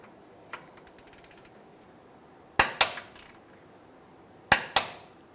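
A wrench works on a control arm bolt of a 2007-2015 Mazda CX-9, first a quick run of light ratcheting clicks, then two pairs of sharp, loud metallic clacks close up, with no talking.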